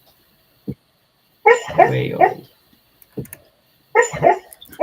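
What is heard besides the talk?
dog making noises while dreaming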